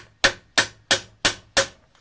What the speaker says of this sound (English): drive a fulcrum bending point in and hammer down against it